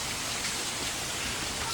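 Heavy monsoon rain pours down over a flooded housing society in Banaskantha, a dense, steady hiss of falling water filling the air with no break.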